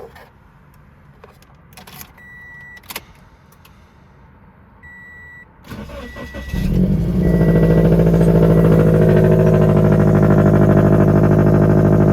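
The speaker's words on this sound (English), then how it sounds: "This is gonna be a cold start. It's gonna be loud." A supercharged Scion FR-S with a broken valve cover and loose rocker arm cranks and catches on a cold start after some quiet clicks and beeps, then settles into a loud, steady, rumbling idle close by.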